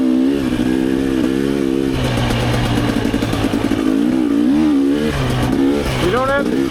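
A Rieju MRPro / Gas Gas EC300 two-stroke dirt bike drones loudly and steadily in third gear on a bouncy Michigan trail loop, its pitch rising and falling as it pulls, with a rider's voice mixed in.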